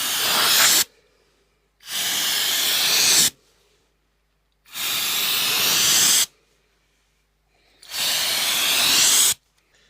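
A heat gun warms the lacquer finish on a DIY Telecaster guitar body, giving four loud, close bursts of airy hiss, each lasting one to two seconds, separated by near silence.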